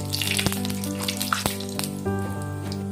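Panch phoron and dried red chili frying in hot oil for a home-style chicken curry, a close, continuous sizzle broken by a few sharp pops and crackles under a steady background hum.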